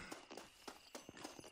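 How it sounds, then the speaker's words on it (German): A horse in the video game Red Dead Redemption walks with hooves clip-clopping in an irregular series of about eight sharp, faint knocks over a quiet background. "Noch ein Pferd."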